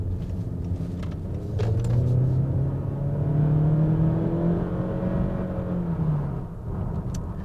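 A 2019 Honda Accord with the 1.5 liter turbo engine pulls away, a steady low engine drone and rising whir building and holding through the cabin, with no talking.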